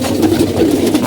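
A flock of about thirty racing pigeons coos steadily at close range while feeding on a grain mix of chickpeas and paddy, a continuous low burbling murmur with no talk.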